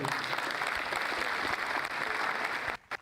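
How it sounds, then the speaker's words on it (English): Graduating medical rehabilitation students clap at an induction ceremony, a dense, steady wash of applause from a crowd that holds evenly and then cuts off abruptly near the end. "Graduates are not clapping very well"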